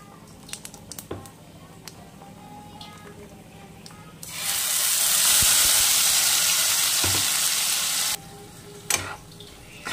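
Ground spice paste stir-fried in oil for a potato and soybean curry: scattered scrapes and taps of stirring, then a loud, steady sizzle for about four seconds that cuts off before more stirring.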